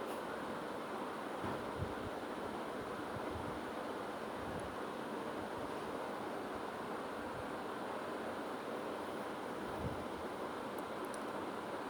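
Potatoes and tomatoes fried in a pan hiss and sizzle steadily after a little water is poured in, a soft continuous crackle with no voices.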